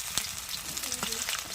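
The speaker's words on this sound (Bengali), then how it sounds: "তো এইভাবে আমি সব ভেজে নেবো কেন্দ্রিগুলো" Batter-coated kendri crackle in hot oil, giving a close, even hiss of frying with a few sharper pops and faint tonal scraping throughout the short stretch.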